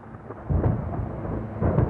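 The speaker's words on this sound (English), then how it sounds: "A thunderstorm! Did you hear that noise?" Cartoon thunderstorm thunder, a deep rumbling roll that swells twice in quick succession, loud and close, with no voices over it.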